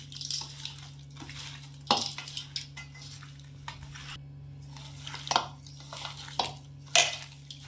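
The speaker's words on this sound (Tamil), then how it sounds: "இதை நல்லா கலந்து விட்டுக்கலாம்" Mutton is stirred in a pan with ginger garlic paste and turmeric for a Tamil-style mutton curry. A spoon scrapes and clanks against the pan in irregular strokes over a faint background sizzle, close up and fairly quiet.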